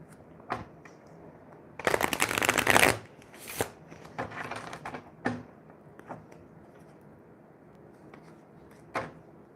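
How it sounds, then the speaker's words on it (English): A tarot deck shuffled by hand, a loud sustained riffle burst followed by scattered soft card slaps and taps, close and with no talking. "I'm just shuffling."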